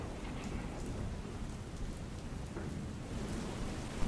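Heavy monsoon rain pours down continuously in Mandvi, Kutch, a dense, loud, even roar of downpour with low rumbling that suggests distant thunder, and no voices.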